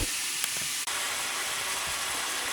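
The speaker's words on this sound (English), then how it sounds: "we're frying up the ground beef right now" Steady, close sizzling of ground beef frying in a hot pan, a constant crackling hiss with a few faint pops.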